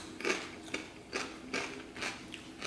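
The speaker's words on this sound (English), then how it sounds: "listen to the crunch" Thin-cut potato chips made in an air fryer are crunched in a series of crisp, brittle bites, about five evenly spaced crunches, close and fairly quiet, with no talking.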